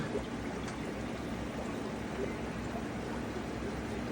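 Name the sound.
water being scooped and poured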